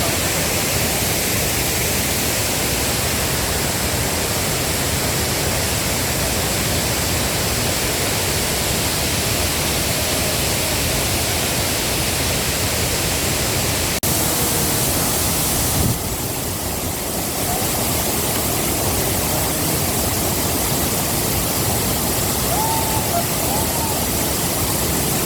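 Achankallu waterfall in Kasaragod, Kerala roars as a dense, steady wash of falling water, loud and close, unbroken for the whole stretch without any voices.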